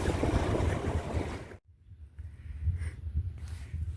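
A boat's diesel engine runs steadily at 2300 rpm while cruising at about 6.4 knots, a low continuous thrum under gusty wind and water noise that briefly drops out partway through.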